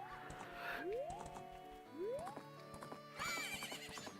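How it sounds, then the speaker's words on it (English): Epona the horse in Zelda: Majora's Mask whinnies several times in rising squeals over steady rhythmic hoofbeats, with a game-like synthetic quality; no speech. "Now Epona is my horse"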